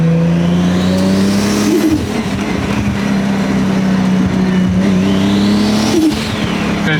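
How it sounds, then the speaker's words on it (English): A Toyota Supra with a built motor running on pump gas accelerates hard, its exhaust revving through rising gear pulls with a brief dip between shifts; loud, close and continuous. "It sure sounds like a Supra"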